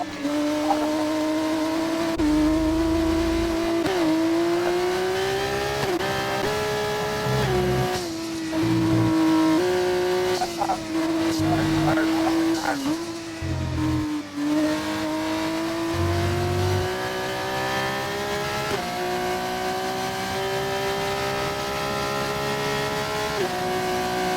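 F2 race cars at Silverstone in a racing video game, a sustained loud engine whine rising and falling through gear changes, with brief low thumps and scrapes as cars run wheel to wheel.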